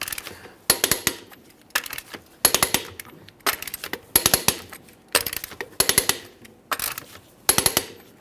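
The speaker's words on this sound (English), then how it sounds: "we can torque each of the lug nuts to 130 foot-pounds in a crisscross manner" A torque wrench tightening the lug nuts on a 2011-2021 Jeep Grand Cherokee wheel to 130 foot-pounds in a crisscross pattern, producing eight evenly spaced bursts of sharp metallic clicks, close and loud with brief quiet gaps between them.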